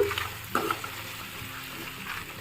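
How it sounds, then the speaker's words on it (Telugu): Brinjal pieces, white eggplant, being stirred into a crab curry in a pan, with a soft continuous simmering sizzle and a brief scrape of the spoon near the start, close and fairly quiet, no talk. "దీన్ని కూడా ఇప్పుడు నేను తిప్పుకుంటున్నానండి మొత్తం కలుపుకుంటున్నాను"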